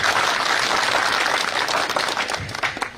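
A crowd at an outdoor political gathering in Ajitsar, Sardarshahar breaks into dense, steady applause for a young man named Kartik, loud and continuous before tapering slightly at the end.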